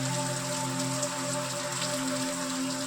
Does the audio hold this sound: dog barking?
no